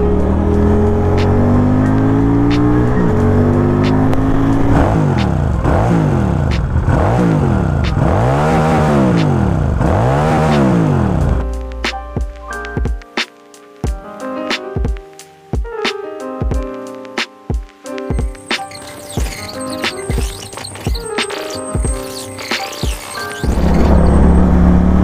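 A QJ SRV400S V-twin motorcycle engine while riding, a loud steady drone with rising and falling revs as it accelerates, then choppy, uneven engine and wind noise, with no talk.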